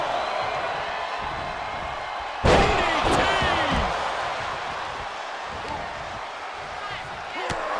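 A sharp, heavy slam of a wrestling forearm strike lands in the WWE 2K23 video game, a single loud impact followed by a couple of quieter thuds over steady arena crowd noise.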